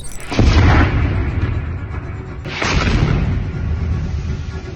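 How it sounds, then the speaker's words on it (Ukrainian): Two heavy artillery shell explosions, a few seconds apart, each a deep rumbling blast that rolls on and lingers, heard from a moderate distance. "На цьому відео зафіксовані звуки від вибухів двох снарядів."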